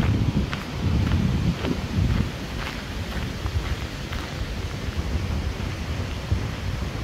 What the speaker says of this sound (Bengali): কি সুন্দর বাতাস।